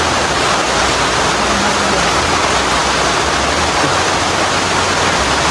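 A steady, dense roar of heavy rain pours without a break, loud and close, with no voices or other sounds standing out.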